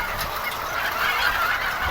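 A dense, continuous chorus of many chickens clucking and calling together in a crowded poultry farm shed while machines dispense feed into feeders, with no voices.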